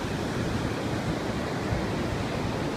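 Ocean waves wash in at night, a steady broadband rush of surf that goes on without a break and carries no voices or other distinct sounds.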